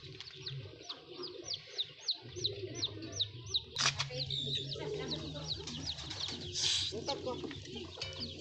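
Ayam Batik chickens kept as a breed in Maros, clucking and cooing in short bursts, close to the microphone, while people talk and coax them to eat.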